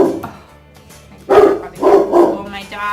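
Close, loud barks from a German Shepherd dog in a home, a few sharp barks following quieter sounds at the start, with a person's voice faintly mixed in.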